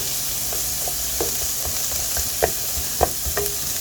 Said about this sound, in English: make sure you scrape your pan to pick up all that good fond that the roast left behind